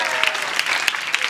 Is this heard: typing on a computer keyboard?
no